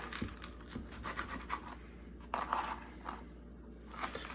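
Cheesy barbecue bread is cut into bite-sized pieces, a series of close, crisp scraping and crunching cuts in an irregular rhythm at moderate loudness.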